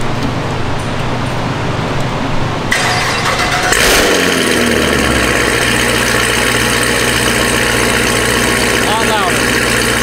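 A Cadillac CTS-V V8 fires up for the first time with no exhaust fitted, a sharp cranking catch that rises into a loud, raw, steady idle that continues to the end.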